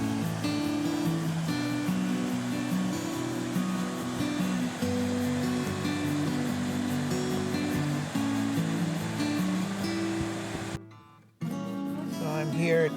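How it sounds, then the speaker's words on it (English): Kings Creek in Lassen National Park flowing steadily, a broad continuous rush of water close by, briefly cut off near the end before resuming. "Pretty little creek."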